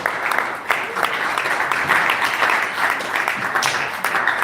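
An audience at an entrepreneurial summit at the University of Benin claps steadily after a talk, sustained dense applause with a few sharper claps standing out, loud and close.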